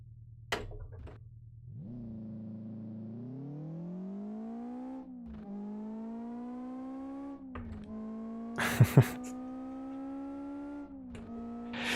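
A rear-wheel-drive, 2-litre naturally aspirated car engine in the racing game Live for Speed idles, then revs up in rising steps with gear changes. A short, sharp burst of clatter comes near the end, and the engine is heard alone and close.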